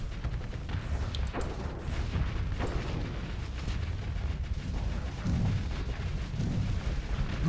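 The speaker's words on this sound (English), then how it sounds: "These Nixus launchers are great when they hit, but hitting can sometimes be a challenge for them." Nexus launchers fire in a space strategy game, sounding as a steady run of deep, muffled booms and rumbling thuds with a few sharper cracks, kept at a low, even level without talk.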